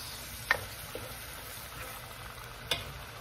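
Onion fries quietly in a pan for butter garlic seafood, a faint low sizzle with a few sharp utensil taps against the pan; no talking.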